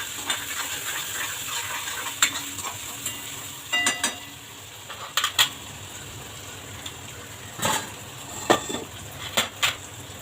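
Curry leaves and spices are stir-fried in a pan for a pumpkin vegetable dish. A soft, steady sizzle runs throughout, broken by scattered sharp scraping clicks of a spoon against the pan.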